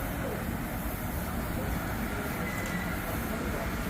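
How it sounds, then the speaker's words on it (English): An 8-car Newark-bound PATH train passes at Harrison, giving a loud, steady rumbling roar that holds unbroken throughout. "Again, this train is 8 cars."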